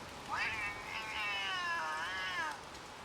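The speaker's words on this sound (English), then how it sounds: "I want to hear the cat." A cat in a video game lets out a long, drawn-out meow with a wavering pitch that lasts about two seconds over faint background noise.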